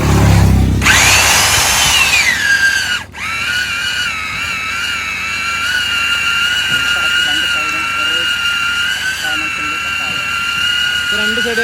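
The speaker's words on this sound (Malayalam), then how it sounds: "എഡ്ജ് ക്ലിയർ ചെയ്ത് കട്ട് ചെയ്യാം, ലെവൽ കറക്റ്റ് ആവാൻ വേണ്ടി കട്ടിങ് പ്രോസസ് നടക്കും." A handheld power tool trims the edges of plastic pipe so they sit level for a glue-free joint: a loud, close, continuous high whine that briefly drops out about three seconds in, then resumes steadily.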